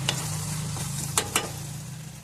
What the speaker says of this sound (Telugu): వేసుకొని ఆయిల్లో ఫ్రై అవనివ్వాలి